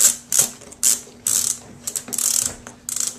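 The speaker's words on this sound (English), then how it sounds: "It pops off, pops in, spin it to tighten it" A Boa lacing dial on K2 inline skates clicks in quick ratcheting bursts as it is spun tight, several short crisp runs of clicks close up with brief pauses between.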